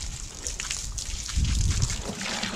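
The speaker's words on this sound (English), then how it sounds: "Next step, fill it up with water." Home brew fermenter being filled with water, a close continuous rushing trickle that deepens into a fuller gushing pour partway through, with no talk.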